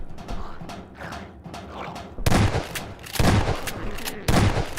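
Gunfire from the video game Half-Life 2 rings out in loud, sharp bursts, several heavy shots with booming tails spaced about a second apart after quieter, muffled thuds.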